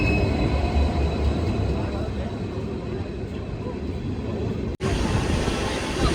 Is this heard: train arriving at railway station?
yes